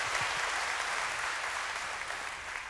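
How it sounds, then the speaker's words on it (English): A congregation applauds serving military members at a Sunday church gathering, a steady, dense wash of many hands clapping that holds evenly throughout without a break. "if we could we just celebrate them with a round of applause real quick?"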